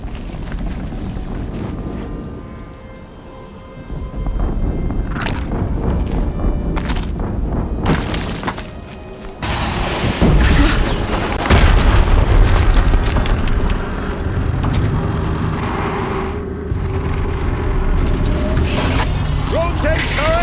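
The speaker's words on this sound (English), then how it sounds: "Another explosion." Explosions in the video game Horizon Zero Dawn, heavy booms and rumbling blasts with shattering debris over dense game noise, loud and continuous, with a voice speaking over them.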